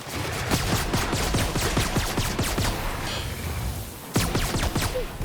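Rapid pistol fire in The Outer Worlds, a steady run of close, sharp shots with a brief pause before a final cluster, over dense combat noise.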